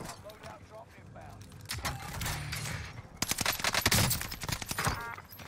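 Rapid bursts of gunfire in the Warzone shooter game, dense cracking shots growing louder and sharper in the second half, heard under voices talking over the action.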